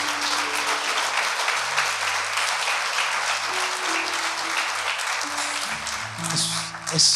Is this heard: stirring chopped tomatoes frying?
no